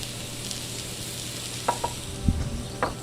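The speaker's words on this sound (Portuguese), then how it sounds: "Escuta a carne fritando." Beef rump steak searing in a very hot pan, a faint steady sizzle underneath with a few sharp pops and spatters near the end, no one talking.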